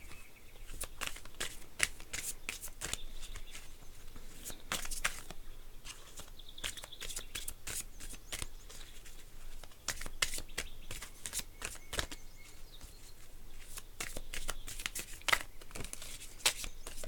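Oracle cards being shuffled by hand, a steady run of close, crisp papery riffles and flicks lasting throughout, with no talking.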